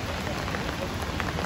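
Steady rain falls in Singapore, a brief, even patter of drops hitting surfaces at moderate volume with no voices.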